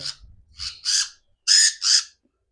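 Young pet bird chick in a breeding setup in Karachi, giving a handful of short, raspy, high-pitched chirps in quick uneven succession, close and alone.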